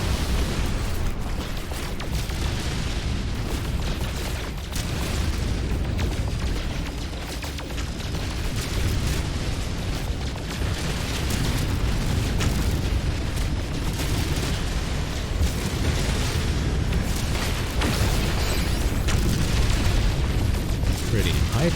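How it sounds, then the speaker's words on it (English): Rocket launcher blasts hit asteroids in space in No Man's Sky, a loud, continuous rumbling barrage of booms and bursts that keeps going throughout with little letup. "We also got rocket launchers?"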